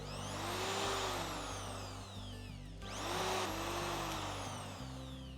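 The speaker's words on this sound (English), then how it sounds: "any excuse to get a drill out just to make some holes in some plastic cups" A power drill bores holes through plastic cups in two separate runs, each a whining motor pitch that rises and sags, separated by a brief pause.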